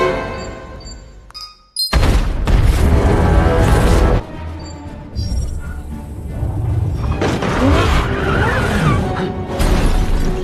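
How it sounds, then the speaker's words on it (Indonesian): A car is wrecked in an action scene from Hitman: Agent 47, opening with a quiet lead-in, then a sudden loud blast and sustained roaring crash with rumbling debris, a brief lull, and renewed heavy destruction noise. "Di tengah perjalanan, mobil anak buahnya hancur dan sudah disiapkan dari awal."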